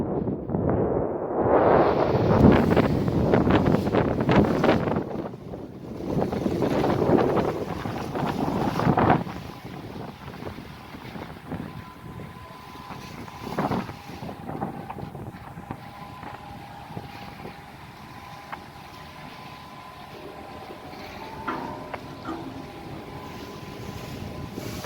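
Strong wind buffets the microphone on a boat at sea in big swells, loud gusty roaring through the first nine seconds, then easing to a steadier rushing wind and water noise with a faint engine hum.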